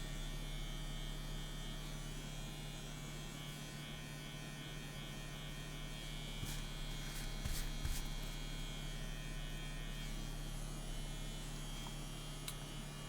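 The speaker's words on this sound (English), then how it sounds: "First test with the CNC WE Tattoo Machine gun." A CNC WE tattoo machine runs at about 7 volts with a steady, faint electric buzz and low hum, holding an even drone for the whole stretch with a few brief clicks near the middle.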